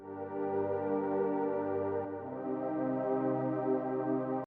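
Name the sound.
synthesizer saw wave pad playing chords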